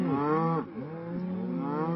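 Dairy cows in Lingreville, France, about to be sent to the slaughterhouse, give two loud, close, drawn-out moos with a brief pause between them.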